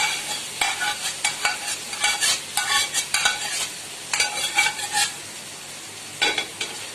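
Boiled mutton being stirred with onions in a frying pan for a dry pepper fry, with soft sizzling under repeated scraping strokes of a spatula against the pan, close and fairly quiet, no voices.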